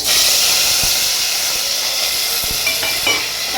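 Spice paste frying in hot oil for a Telangana-style tamarind stew, a loud continuous sizzle and hiss with a few soft stirring knocks, close up.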